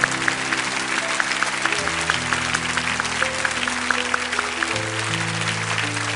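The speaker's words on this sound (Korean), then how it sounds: "우리 한 번 더 큰 박수로 축복합니다." A church congregation gives a steady round of applause, continuous and even throughout, with sustained organ or keyboard chords playing underneath.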